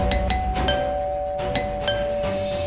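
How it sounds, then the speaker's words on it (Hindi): A doorbell rings in a domestic scene, its bright chime tones striking several times in quick succession, a repeated ding-dong pattern that sounds close and fairly loud, with no talking. "कब से डोरबेल बजा रहा है"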